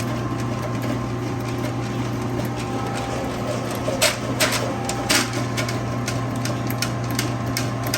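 A General Mini Rooter XP drain machine, run by an air push pedal pump, spins its cable inside a drain with a steady mechanical hum and rattle, broken by a few sharp knocks and ticks.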